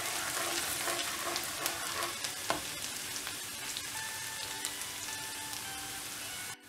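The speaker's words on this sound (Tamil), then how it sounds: "பூண்டு ஆட் பண்ணிவிட்டு இது இந்த எண்ணெயிலே நல்லா ஃப்ரை ஆகணும்" Chopped garlic frying in hot oil for a street-style sundal masala, giving a dense, steady sizzle with small crackles and spatter throughout, close and loud, ending abruptly.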